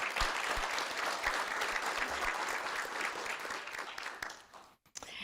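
Audience applause at a school board meeting, a brisk round of clapping from a modest crowd that fades out after about four seconds, followed by a brief pause and faint room noise.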